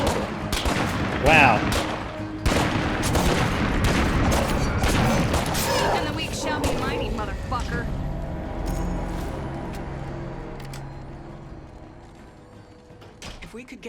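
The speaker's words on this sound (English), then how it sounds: "I can hear the Timberwolf shooting as well." Timberwolf rifle gunfire in the zombie survival game State of Decay 2, repeated sharp shots and booms in bursts over the first half, fading later, with someone talking over it.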